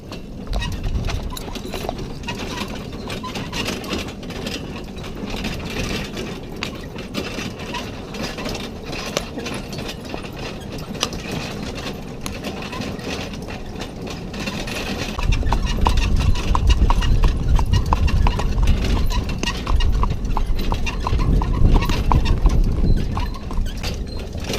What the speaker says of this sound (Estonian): Täna me sõidame hobustega